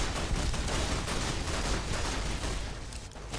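Continuous gunfire in the Fallout: New Vegas video game during a battle at a dam, a dense, loud, unbroken rattle of shots that fades slightly toward the end, with no talking.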